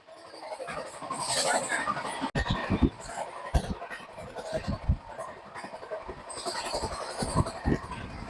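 The Saktipunj Express train rumbles steadily along the rails as it arrives at Asansol, with a series of heavy rhythmic clacks from the wheels. It sounds close and continuous.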